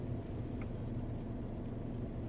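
Car cruising on a partly plowed snowy road in freezing rain after switching to rear wheel drive, giving a steady low engine and tire rumble throughout with no talk.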